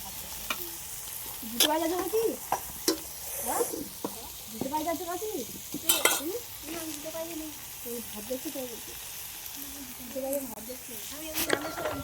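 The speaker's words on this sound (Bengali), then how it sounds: "আমাদের এখানে গাঁজর টাঁজর ভাজা টাজা হচ্ছে" Carrots sizzle in a pan at an outdoor picnic while being stirred, with a continuous frying hiss and scraping stir strokes running beneath people talking throughout.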